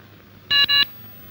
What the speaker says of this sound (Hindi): अभी फोन कर देता हूँ पुलिस कमिश्नर को